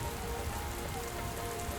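Steady rain falling as a sound effect in a children's Bible story about Noah's ark, a dense, even hiss of drops on a surface, close and continuous with no voices.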